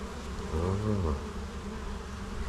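Siberian honeybees buzz close by, one droning hum rising and falling as it passes near, over a steady low background murmur.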